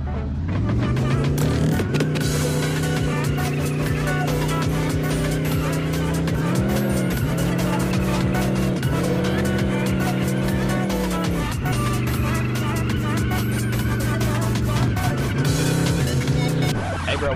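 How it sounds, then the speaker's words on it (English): A car drifts in the video game Chicken Gun, its engine whining steadily through shifting revs while tires squeal and skid, loud and continuous throughout, with a voice faintly beneath. "let me show you my skill at drifting"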